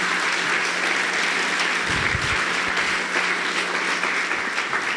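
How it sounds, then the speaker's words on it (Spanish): A church congregation breaks into sustained, dense applause that fills the space steadily throughout, with a brief low thump midway and no clear speech over it. "El que lo crea, dele un aplauso"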